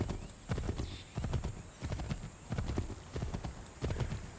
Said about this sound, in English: always forget about the fact that I can spur the horse